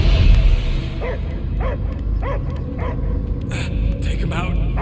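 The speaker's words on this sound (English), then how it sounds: "I hear only barking" A dog barks repeatedly in the Guardians of the Galaxy video game, a steady run of sharp yelping barks over a loud rumbling background, with a voice speaking as well.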